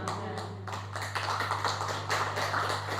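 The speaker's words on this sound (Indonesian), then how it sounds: "Tepuk tangan jangan setengah-setengah, lebih kencang." A church congregation clapping hands in rhythm during worship, dense and steady with regular accented beats over a low constant hum, moderately distant, no talking.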